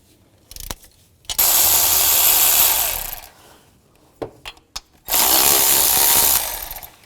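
Impact gun or power ratchet with a 15mm socket spinning nuts off the front catalytic converter of a 2010-16 Buick LaCrosse, two loud sustained whirring bursts separated by brief clicks and clunks of handling.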